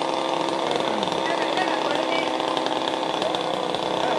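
A chainsaw cuts trees during volunteer trail maintenance on a mountain route, its loud, steady buzzing engine running throughout with voices talking over it.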